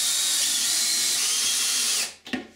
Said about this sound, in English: Now I'll secure the tub to the walls with some screws through this flange.